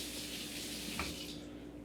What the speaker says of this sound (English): So I'm going to rinse this off real quick.